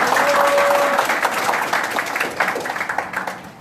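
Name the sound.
audience applause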